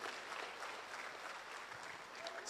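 Congregation at a church funeral service clapping hands for the Lord, a steady dense wash of many hands kept up throughout, fairly quiet and even.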